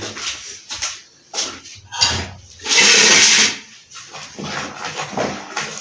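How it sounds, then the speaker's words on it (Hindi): Water poured into yogurt and whisked by hand to make lassi, with splashing, sloshing bursts and one longer loud pour, close by and uneven in rhythm. "तो हम इसमें आधा किलो पानी ऐड कर देंगे इसमें। वो पानी ऐड करके वीवर्स से अच्छी तरह से मिक्स कर लेंगे आपस में।"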